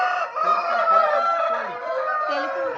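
A fighting rooster of the pandem kodi breed gives one close, loud crow lasting nearly three seconds, rising and wavering without pause.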